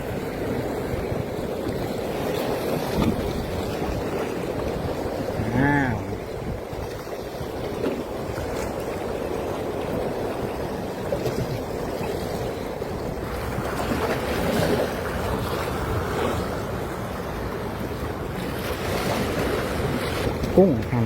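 Sea waves on the Rayong coast at a fishing spot, a steady wash of surf with wind buffeting the microphone, continuous and moderately loud, with faint distant voices at times.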